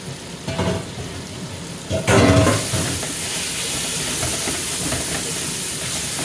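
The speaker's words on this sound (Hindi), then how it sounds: "अब मसाले में करेंगे जी मिक्स ते अच्छी तरह भुनाऊंगे" Soaked mash daal is mixed into hot masala and roasted, giving a loud hiss that surges at about two seconds, then settles into a steady, close sizzle.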